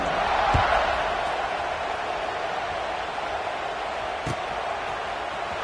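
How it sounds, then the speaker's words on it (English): Stadium crowd at an NCAA college football game buzzing after a score, a steady broad roar filling the whole clip at a distance with a couple of brief thuds. "this crowd is buzzing after that last score"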